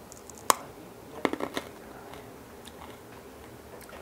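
Someone bites into a crunchy baked treat from an autumn baking session, one sharp crack followed a moment later by a short burst of crisp crunching, close up in a quiet kitchen.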